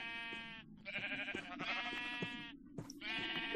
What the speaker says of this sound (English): Okay, I'll kill some sheep real quick.